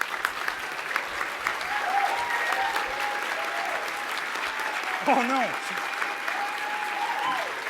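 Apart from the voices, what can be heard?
audience applause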